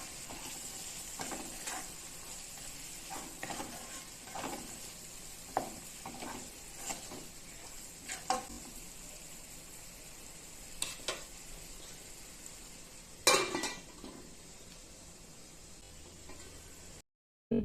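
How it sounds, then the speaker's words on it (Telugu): Chili powder is stirred into a mulakkaya tomato curry in a pan. A faint, low sizzle runs under scattered soft scrapes of a spoon against the pan, with one louder clatter near the end. "కారం కూడా వేసి అంతా కలిసేలాగా కలుపుకొని జస్ట్ ఒక 2 మినిట్స్ అలా"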